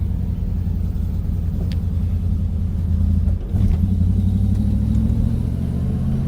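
A Triumph Stag engine idles with a little choke applied, a steady low rumble close by that dips briefly and then settles into a slightly smoother, fuller note.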